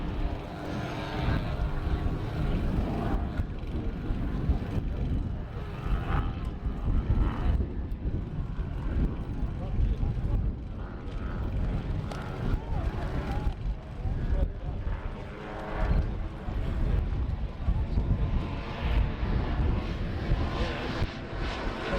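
Model aeroplanes flying in formation at an air show drone continuously overhead, their pitch rising and falling as throttles change, with a voice talking over the buzz.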